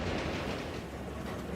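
Steady rumble and rattle of a fast-moving passenger train on rails in India, heard from inside a carriage kitchen as continuous dense noise without clear individual clicks.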